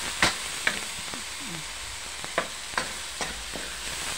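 Shrimp heads tossed into a pan with squash and bitter gourd, a low sizzle running beneath sharp utensil clinks and scrapes that land every half second or so.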